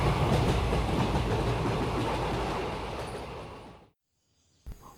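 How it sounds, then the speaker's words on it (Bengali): A moving train rumbles loudly with a dense, steady clatter and roar that slowly fades to silence, followed by one brief knock near the end. "ট্রেন তখন গতি নিয়েছে।"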